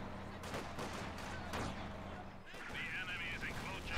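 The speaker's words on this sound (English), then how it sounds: "I hear the quad mount coming in." A quad-mount machine gun fires in a World War II strategy video game, giving several short bursts of rapid, rattling shots over game ambience, followed by other battle noises.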